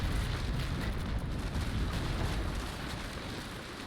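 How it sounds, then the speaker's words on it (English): Incoming naval cannon fire in the age-of-sail game Naval Action rumbles as a heavy, dense barrage of low booms, loud at first and slowly easing off, with no voices over it. "Incoming fire."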